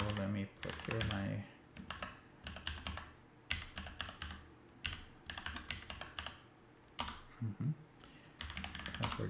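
Password being typed on a computer keyboard while remoting into a Raspberry Pi: close, crisp key clicks in quick bursts with short pauses between, and a faint low background hum.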